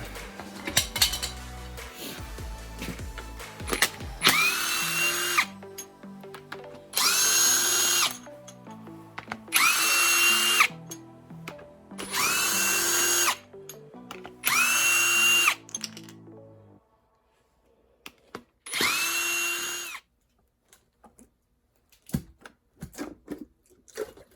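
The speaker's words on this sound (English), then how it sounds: "pull those head bolts out" A power tool loosening cylinder head bolts on a FA20DIT engine: about five loud bursts of drilling, each a few seconds long, separated by brief pauses, followed by scattered clinks of metal parts.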